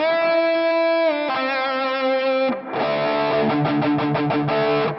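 An electric guitar played through a NUX MG-300 multi-effects unit with distortion and the expression pedal pulled fully back rings out sustained distorted chords, then switches to a quicker run of choppy, rhythmic strummed chords.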